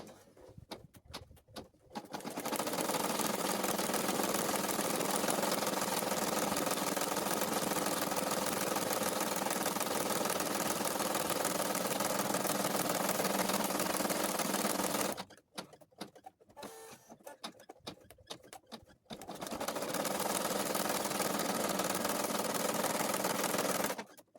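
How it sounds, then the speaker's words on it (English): An embroidery machine stitches out a placement outline for a beginner cloth doll's arm, a steady loud mechanical whirring hum running for long stretches, stopping briefly for a few quiet seconds, then starting again near and alone. "Load the design into the machine and stitch out the placement stitch."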